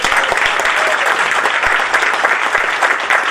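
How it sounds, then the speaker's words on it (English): Audience applause fills a 60th birthday celebration honoring a state senator, a steady, dense wash of clapping from a sizable crowd that runs unbroken for several seconds at close range. "Let's give her a big round of applause."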